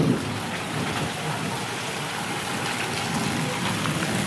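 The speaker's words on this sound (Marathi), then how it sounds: "किती भयानक जोर पाऊस आला" Heavy rain pours down in a storm with wind, a dense, loud, unbroken wash of hiss and patter on surfaces that stays steady throughout, with no talk.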